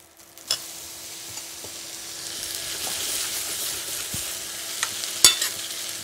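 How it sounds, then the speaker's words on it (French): Gnocchi browning in melted butter in a pan give a steady soft sizzle, with a few sharp clicks and knocks of stirring or a spoon against the pan; no one talks. "Donc là, c'est le beurre, c'est vraiment ce qui va les nourrir."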